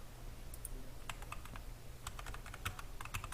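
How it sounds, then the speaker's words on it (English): Arrow keys on a computer keyboard are tapped in quick, irregular bursts of light plastic clicks, quiet and close, with no talking over them. "And plus you can also use your arrow keys."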